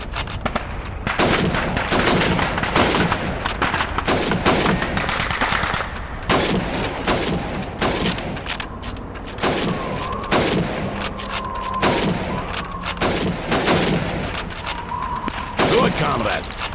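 Rifle shots fired at helmets on a training range in Call of Duty 2, a rapid series of loud bangs and thuds spread across the clip with voices and game sound mixed in.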